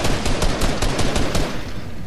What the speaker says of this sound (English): Be careful, we're being shot by other kids in the back.